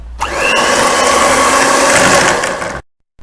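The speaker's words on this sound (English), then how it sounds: "we're now going to blend it up so that it's ready to add the dry ingredients using a hand mixer" An electric hand mixer whirs loud and close through a microwaved mixture for a gluten-free recipe, starting up with a rising whine, running steadily for about two and a half seconds, then cutting off into silence.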